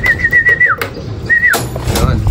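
Bird calls at a pigeon loft as racing pigeons arrive from a race released at Padre Burgos, Quezon: two clear, high whistling tones, each gliding downward at the end, over low outdoor rumble.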